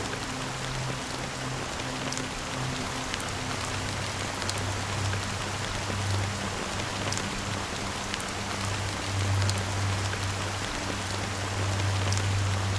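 Steady rain falls in the video game Honkai Star Rail, a constant even hiss of drops with occasional sharper patters, over a low sustained droning tone and no talking.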